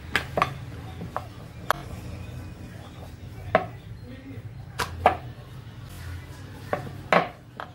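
Wheat dough is rolled out into a flat round with a rolling pin while making samosas, giving quiet, irregular wooden knocks and soft rubbing strokes against a board, close by with little else around.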